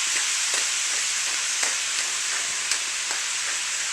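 Seasoned meat browning in an Instant Pot for keto Texas chili, a steady close sizzle of frying with faint crackles throughout, no talking.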